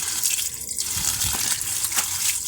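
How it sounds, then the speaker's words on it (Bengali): Leafy greens are washed under a running tap, with a continuous rush of water and scattered splashes and drips close by. "পরিষ্কার করে শাকগুলো ধুয়ে নেব"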